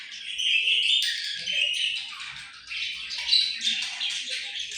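Pet birds chirping and twittering indoors at home, with a busy run of high overlapping calls that rise and fall throughout, moderately close and with no talking.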